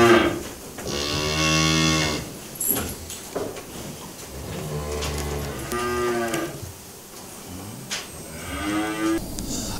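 Several cows on a farm moo in long, loud calls, one after another and sometimes overlapping, with brief pauses between them and no talking.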